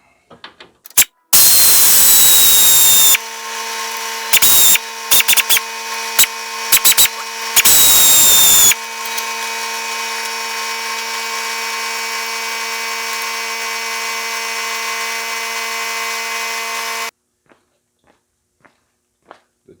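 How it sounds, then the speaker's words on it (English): A 90-degree pneumatic air tool, used to take apart a Lumina cooling system, fires in several loud, sharp bursts, then runs steadily at a high whine for about eight seconds before stopping, followed by faint clicks. "The trade-off with using the pneumatic gun is, of course, the noise."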